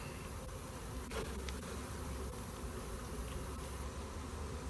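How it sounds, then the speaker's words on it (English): Honey bees shaken off a frame while combining two nucs for winter buzz in a steady, close swarm drone, with a few brief knocks and clicks over it. "I need to shake the bees off so I can see what I'm doing"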